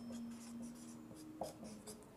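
Pen or marker writing out the steps of a maths simplification lesson, soft scratchy strokes in short bursts, faint and close, with no talk.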